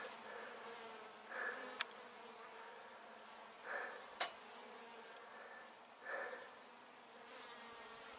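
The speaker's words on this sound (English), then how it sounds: "Bees are real active." Honey bees hum steadily around a hive beside a greenhouse, a faint, even drone with a few passes swelling louder and a couple of sharp clicks.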